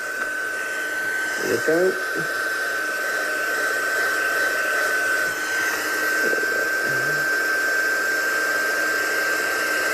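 A heat tool blows steadily across the surface of a piece of card, drying it for a Valentine's craft project, with a continuous hiss and a high tone throughout while someone speaks briefly over it.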